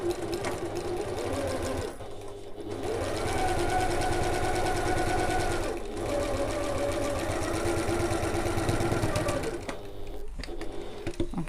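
A sewing machine stitches a back stitch on an evening bag, running in steady rapid bursts with short pauses between, close and clear.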